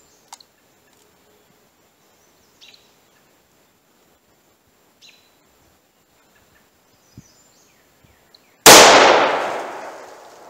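A single loud 9mm pistol shot with Federal Hydrashok low recoil ammunition cracks sharply near the end, decaying into a ringing tail after several faint clicks and handling noises.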